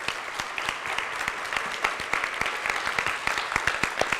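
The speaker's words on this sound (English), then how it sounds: "So please join me in applauding all of them." Steady applause from a crowd, dense clapping that holds at an even level throughout with no pauses.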